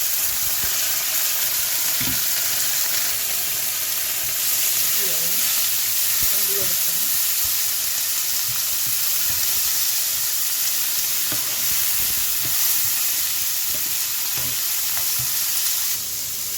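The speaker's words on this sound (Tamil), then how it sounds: "கொஞ்சம் மோர் மிளகாயும் பொரிஞ்சு வந்துட்டு வெங்காயம் பொரிஞ்சிட்டு" Onions and buttermilk chillies fry in oil for a horse gram sundal, giving a loud, continuous close sizzle and crackle with occasional stirring scrapes and pops throughout.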